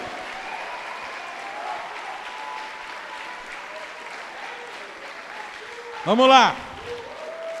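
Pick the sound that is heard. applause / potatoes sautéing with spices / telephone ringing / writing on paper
applause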